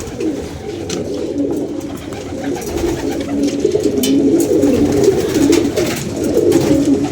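Pigeons coo close by, a dense, continuous layer of soft throaty calls that overlap and grow slightly louder toward the end, with no talk.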